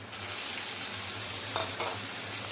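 Parboiled taro pieces added to spiced masala in a pan, frying with a steady close hiss and a couple of brief utensil scrapes.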